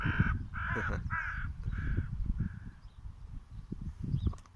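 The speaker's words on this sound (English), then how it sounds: "the crows are around the dog again" A crow gives a run of five harsh caws, fading slightly toward the end, over low rustling and scuffling noise nearby.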